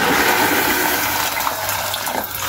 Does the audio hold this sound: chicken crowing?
no